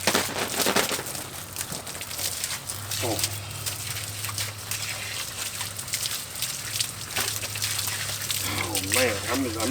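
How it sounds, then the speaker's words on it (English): Water splashing and trickling as muddy hands are washed, a steady wet wash of sound with a low hum underneath and occasional clatter throughout. "Oh man, I'm just getting water everywhere."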